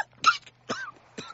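Three short, harsh bursts spaced roughly half a second apart, close and fairly loud over a faint steady hum, like a person coughing or clearing the throat in someone's face.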